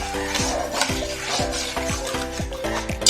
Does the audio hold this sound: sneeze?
no